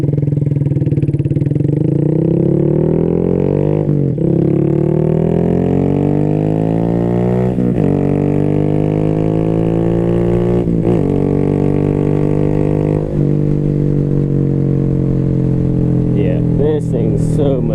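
A Honda Grom motorcycle revs up through the gears several times and eases off between shifts, loud and close, with the rider talking over the engine.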